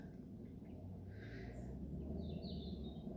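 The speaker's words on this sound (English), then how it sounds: "and listen to the birds" Faint birdsong drifts over a field near Wye in Kent: a few thin, high chirps and trills that come and go over a low, steady outdoor rumble, distant and soft.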